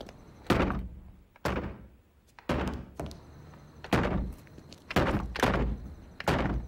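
Heavy thumps of a door being banged on in the adventure game Blake and Mortimer: Mystery of the Great Pyramid, about seven loud blows in irregular pairs and singles, each with a short boomy decay.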